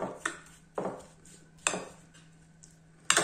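Strawberries and powdered sugar mixed in a bowl for a strawberry tiramisu, with four sharp spoon-on-bowl clinks spaced about a second apart over a low steady hum, close and fairly quiet.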